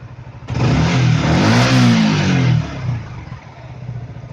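A Yamaha All New Vixion R motorcycle engine revs hard in one loud, close burst lasting about two seconds, then drops back to a rough, lumpy idle.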